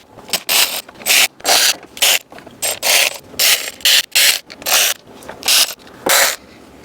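A hand ratchet snugs down valve cover bolts on a Mercedes E63 M156 engine, giving about a dozen crisp, evenly spaced clicking strokes with short pauses between them, close and clear.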